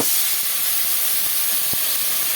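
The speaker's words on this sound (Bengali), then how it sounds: "জলটা দিয়ে এইভাবে কষিয়ে নেবো একটু" Water poured into a pan of spices frying with bay leaves, cumin, cinnamon, cloves and cardamom, giving a steady loud hiss of steam and sizzle throughout, with a brief clink partway through.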